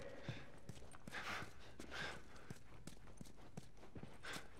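Horse hooves clip-clop in The Last of Us on PS4, a run of fairly even, distinct hoofbeats at moderate volume over a steady low game ambience, with no talk.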